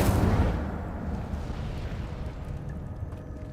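An Incendio fire spell bursts in Hogwarts Legacy with a single loud, booming blast of flame at the start that rumbles and decays steadily into a low, lingering roar.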